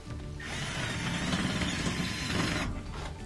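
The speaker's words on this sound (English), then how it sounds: "use the screwdriver to drive it in" A Phillips head screw is driven with a screwdriver while fixing a GE SpaceMaker washer that won't spin, giving a close, continuous grinding whir for a few seconds that starts and stops abruptly.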